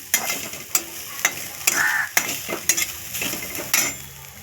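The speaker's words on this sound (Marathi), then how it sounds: "ओलं खोबरं एक वाटी टाकून दिले ते तुपात भाजायचं आहे आपल्याला खोबरं" Grated fresh coconut roasts in ghee in a pan. A spatula stirs and scrapes in a regular rhythm of sharp knocks over a soft, continuous sizzle.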